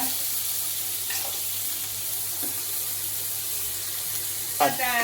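Tomatoes sautéing in a pan, a steady moderate hiss of frying with a couple of faint stirring touches and a brief clatter near the end.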